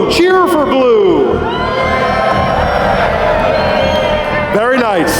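A live arena audience cheers loudly for the blue side at a Get in the Ring event in the Netherlands, a dense continuous roar of shouts, whoops and children's screams with some clapping throughout.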